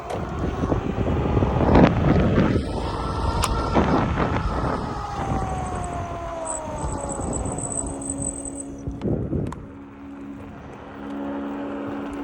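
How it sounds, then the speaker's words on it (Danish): A helicopter passes overhead above Danish countryside, its loud turbine whine rising and falling as it flies by amid heavy wind rumble, then fading to a steadier lower drone. "Der er sgu en helikopter."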